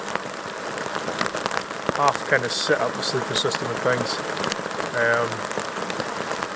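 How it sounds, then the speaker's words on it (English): Steady rain patters on taut fabric of a hot tent in Cairngorm National Park, a dense, close drumming that continues under a voice speaking throughout. "The rain just isn't looking like it's going to stop at all."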